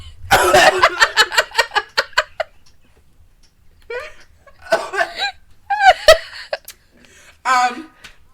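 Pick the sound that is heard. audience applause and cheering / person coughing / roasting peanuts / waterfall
person coughing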